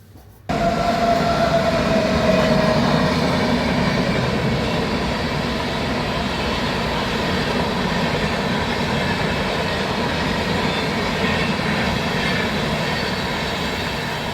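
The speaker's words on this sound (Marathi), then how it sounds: "झाकण लावून द्या कुकरचा तीन शिट्ट्या घेऊया आपण" A pressure cooker whistles while cooking chickpeas for chole, bursting in abruptly and holding a loud, steady, rushing steam shriek for the rest of the stretch.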